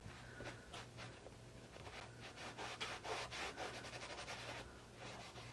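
Metallic finish being rubbed by hand into a wooden bench, a soft repeated scrubbing and swishing close up, quiet and steady with faint background hum.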